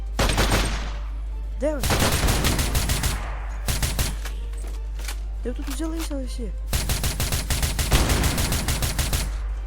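Rapid bursts of automatic gunfire crackle in a shooter video game, with dense volleys separated by brief pauses while someone talks over the shooting.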